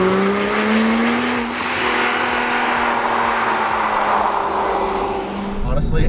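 A 2006 Porsche Cayman S engine with stock exhaust drones steadily at speed, its exhaust note rising and falling through the gears, loud and close for several seconds.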